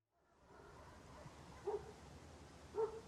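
Dogs bark twice in the distance at night, two short faint barks about a second apart over a low steady background hush.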